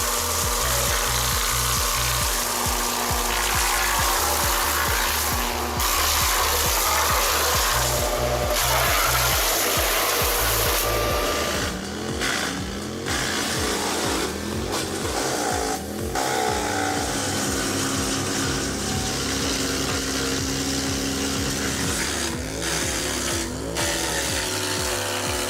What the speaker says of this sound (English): this is the ideal chipper for working in clearings, sawmills, farming or forestry